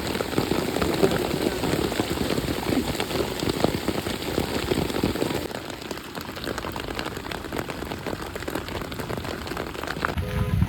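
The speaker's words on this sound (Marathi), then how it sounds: "अशा प्रकारे पाऊस आलाय" Steady rain patters densely on a surface during a Patgaon bullock-cart race meet, a continuous close hiss of drops with no pauses.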